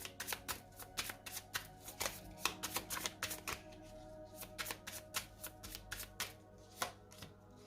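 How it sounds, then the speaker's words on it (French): Tarot cards are riffled and shuffled by hand in a quick run of close, crisp papery flicks and slaps, in bursts with short pauses and no talking. "On va remettre une carte sur le fou."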